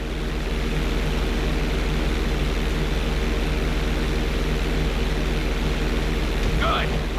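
Steady propeller airplane engine drone in GTA 5 flight school, a continuous loud hum with airy wind noise, holding evenly throughout with a brief scrape near the end.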